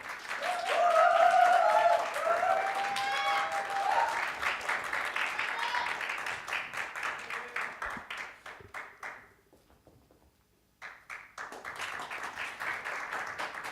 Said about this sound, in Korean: 연설을 박수로 들어보겠습니다.